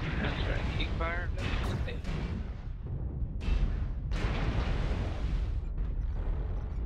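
Weapons blasting away in a mech combat video game with a Hellbringer loadout of lasers, SRM6 missile racks and machine guns, a dense run of booms and bursts filling the scene while a player talks over the fire.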